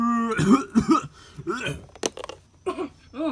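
A short cough bursts out amid voices, followed by a few throat sounds and murmured talk nearby.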